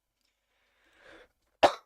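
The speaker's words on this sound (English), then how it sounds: "so I apologize with the coughing" A sick man coughs once sharply and close, preceded by a faint breathy rasp, in an otherwise quiet room.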